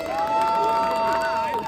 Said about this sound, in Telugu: గట్టిగా కొట్టాలండి చప్పట్లు గట్టిగా